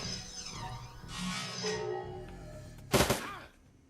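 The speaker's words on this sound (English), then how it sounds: "The turrets are shooting them, which is great." Automated turrets in the video game Shadowrun Returns firing on enemies, a sharp loud burst of shots near the end, following softer game sounds and effects.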